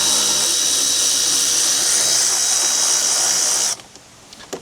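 Power tool such as a drill or impact driver spinning to remove 13mm bolts on a 2004-2008 Dodge Ram 1500 radiator, a steady loud whir running alone for several seconds before cutting off, followed by faint clicks.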